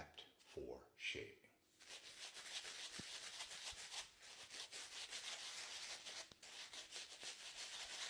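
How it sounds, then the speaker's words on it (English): A shaving brush rubs across facial skin before a shave, a close, steady brushing hiss that runs continuously after a brief voice at the start. "Shave brushes not only exfoliate, but they massage the skin and get it prepped for shaving."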